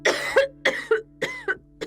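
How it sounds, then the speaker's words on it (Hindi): A person coughs in four sharp, close bursts spaced across two seconds, each a harsh rasping hack with a short throaty tail, set in a quiet room during a Hindi drama about the corona oxygen crisis. "खांसी तो काफी बढ़ गई है"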